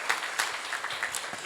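A church congregation gives a brief burst of scattered applause at a seminar, fairly faint and distant, with individual claps audible in a loose texture.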